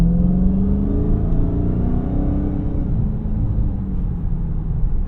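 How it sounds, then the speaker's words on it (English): A 2023 Dodge Charger SRT Hellcat Jailbreak Widebody accelerates hard to 60 mph, its loud, deep engine roar climbing steadily in pitch through the gears, heard close from inside the car with no talking. "And just like that, you're up to 60 miles an hour. It's crazy how fast this thing is."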